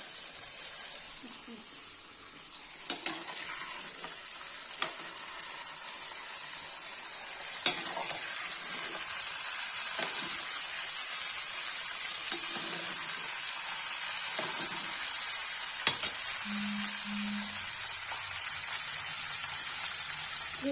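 Pieces of bottle gourd frying in oil in a pan, giving a loud, steady, close hiss of sizzling with scattered sharp crackles and pops over about twenty seconds.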